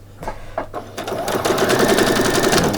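A sewing machine stitching fabric for a frilled top starts with a few soft handling clicks, then runs in a steady rapid whir of stitches, close and fairly loud.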